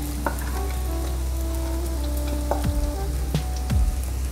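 Chopped okra hits a pan of frying onion and green chili, a loud steady sizzle up close with a few sharp spatula scrapes and knocks.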